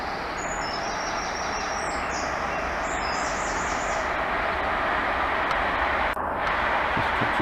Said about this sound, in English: I can hear the train going through now.